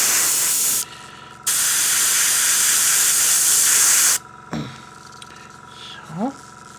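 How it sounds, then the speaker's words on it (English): Airbrush fed by an air compressor hisses loudly in close, sustained bursts, cutting off twice with brief pauses, followed by quieter moments with faint handling sounds and a short voiced murmur. "I hope this airbrush and compressor sound is not too loud for you."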